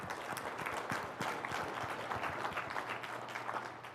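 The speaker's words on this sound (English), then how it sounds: "everyone give them a round of applause" A fairly quiet round of applause from an audience at a business event, steady clapping that eases off toward the end.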